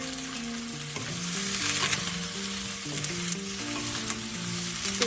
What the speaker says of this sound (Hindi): शिमला मिर्च भी हमें हाफ फ्राई करना है।